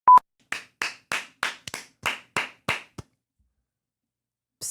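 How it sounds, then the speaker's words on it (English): Audience clapping at the close of a live podcast taping at City Winery, heard as about eight short separate claps in an uneven run, each fairly loud and close, then a brief pause before one more burst. "Them claps was trash, too. That was a trash clap."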